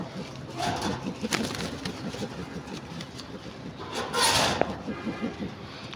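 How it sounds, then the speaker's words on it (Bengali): Pigeons, including newly acquired hens and a cock, coo in a steady, overlapping low murmur close by, continuous for the whole stretch with faint background rumble. "আমার এখানে নতুন 3 পিস কবুতর আছে"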